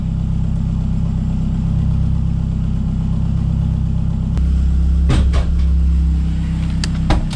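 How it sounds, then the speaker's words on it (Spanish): A used car's engine idles without any revving, a steady low, loud rumble heard up close. A few sharp clicks and knocks break in near the end. "escuche en ralenti, como les digo, sin acelerar"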